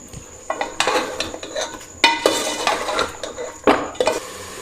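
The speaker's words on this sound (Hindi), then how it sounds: "हुण असा अच्छी तरह भुनाई कर गिनसूँ" Ground spices, including dry coriander, garam masala, nutmeg and mace, are stirred and roasted in a pot for beef haleem: loud, close scraping and clinking of a spoon against metal, in uneven bursts, with no one talking.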